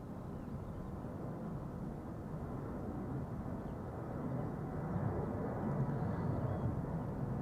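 A Transavia airliner takes off from the center runway at Amsterdam Schiphol, its engines a broad, distant roar that swells slightly toward the end.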